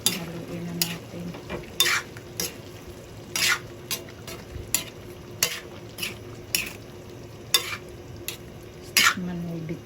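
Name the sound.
stirring pinakbet vegetables in a pan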